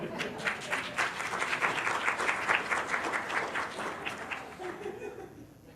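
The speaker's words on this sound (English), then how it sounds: "Yeah, you can clap for them." Audience at a weekly club meeting applauding award recipients, a thick wash of many hands clapping at an even level that gradually thins and fades toward the end.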